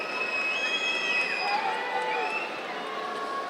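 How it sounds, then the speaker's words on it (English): An arena crowd at the 2018 Paris judo Grand Slam roars for a home fighter, with sustained cheering, shrill shouts and whistles rising over the general din. "the crowd absolutely erupt"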